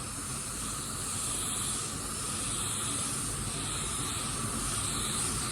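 A steady, loud hiss of air is blown onto freshly sprayed car paint to dry it, a continuous rushing sound with slight pulsing and no talking.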